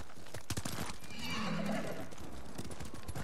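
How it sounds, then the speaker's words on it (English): In the Ghost of Tsushima video game, a brown horse lets out a clear whinny over steady hoofbeats and background game sound. "I liked my all black steed."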